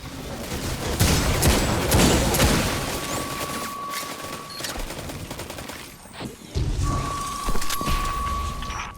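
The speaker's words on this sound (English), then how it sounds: "Shooting out there." Dense, loud volleys of rapid gunfire crackle and rattle almost continuously in Destiny 2: Beyond Light, with a brief lull midway before the shooting surges again, and a faint steady tone sometimes rings underneath.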